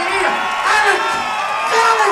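A crowd at a Hardrock MMA amateur event cheers and whoops for a featherweight fighter, loud swelling roars rising and falling in waves, with an announcer's voice carrying over the noise.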